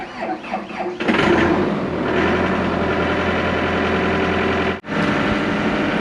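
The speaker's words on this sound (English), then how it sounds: "little bit weak starting. We'll let it idle for a while." A dump truck engine cranks for a moment, then catches weakly and settles into a loud, steady idle with a faint squeal. A brief dropout comes near the end before the idle resumes.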